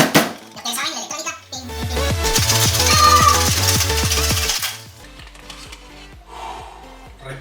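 Ice rattles hard inside a cocktail shaker as a vodka cocktail is shaken in a fast, steady rhythm of loud clattering knocks for several seconds, then slows to lighter taps, close up with a voice briefly heard.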